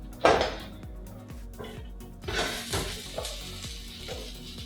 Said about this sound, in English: So now I'm gonna fry rice.